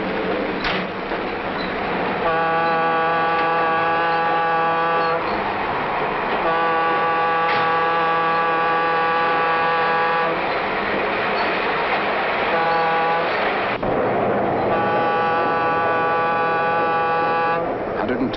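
A diesel freight locomotive hauling heavy freight cars gets underway, its loud multi-tone horn sounding in several long blasts over a steady engine rumble.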